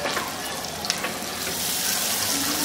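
Sliced onions and a few green chilies frying in a pan for a rui fish curry, giving a steady, close hiss of sizzling oil that runs unbroken and slightly builds, with a few soft clinks and no talk.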